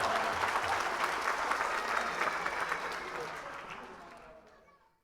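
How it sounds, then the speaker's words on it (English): A crowd claps loudly and continuously for a sports coach, with thick sustained applause that gradually thins and fades to silence by the end. "let's just clap it up for Coach Prime"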